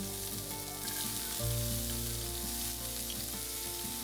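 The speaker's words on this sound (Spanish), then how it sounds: "Empezaremos acitronando la cebolla junto con el chile jalapeño." Onion and jalapeño chile fry in a pan with a steady, even sizzle that swells slightly partway through, with no talk.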